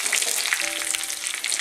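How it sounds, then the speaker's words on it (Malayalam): Curry leaves and onions frying in hot oil give a steady, close, loud sizzle with crackling pops, heard alone without any talk. "ഞാൻ കറിവേപ്പിലയും കൂടെ ഒന്ന് എണ്ണയിൽ കിടന്ന് നന്നായിട്ടൊന്ന് മൂക്കണം"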